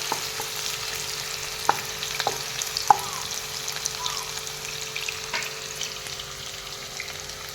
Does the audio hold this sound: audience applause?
no